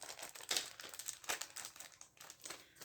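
Sealed package being opened with crinkling wrapping, a quiet run of close, irregular crackles and rustles with brief louder bursts.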